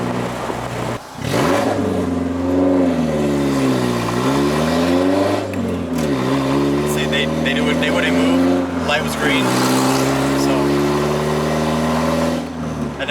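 A car engine revs loudly and repeatedly, its pitch rising and falling in surges close by, with a voice talking over it.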